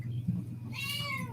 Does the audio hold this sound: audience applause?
no